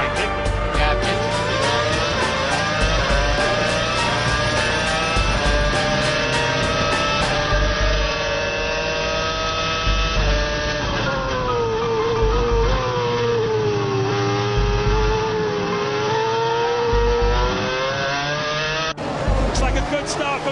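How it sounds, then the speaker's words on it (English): Formula One race cars on the opening lap, roaring steadily down the straight with high-pitched engine whine that shifts in pitch as they jostle, while commentators talk throughout. "Here's another look at how Räikkönen got tucked up behind Jenson Button down the straight on the first lap"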